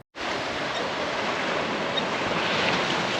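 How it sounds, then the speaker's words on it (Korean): Rough winter sea waves surge against the shore, a loud and steady rushing roar mixed with wind buffeting the microphone, starting abruptly after a brief silence, with no talking. "파도 보세요, 파도"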